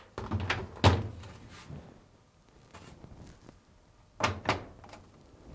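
A Fisher & Paykel washing machine lid is pushed down and locked, making a cluster of close plastic thunks and knocks, a quiet gap, then two more firm thuds.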